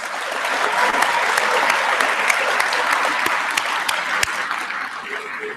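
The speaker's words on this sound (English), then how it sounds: "Could we give them all a round of applause?" A school assembly audience claps for a team, a dense burst of applause with individual sharp claps standing out, fading slightly toward the end.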